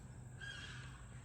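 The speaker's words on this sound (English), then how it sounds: "Sorry about the birds." Crows caw outdoors, faint and somewhat distant, over a low steady background rumble in one brief call.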